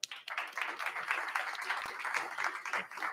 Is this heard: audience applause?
yes